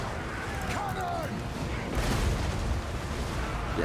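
Cannon fire booms during a Total War: Warhammer battle, a broad rumbling blast swelling briefly in the middle of a steady wash of battlefield noise, with no talk over it.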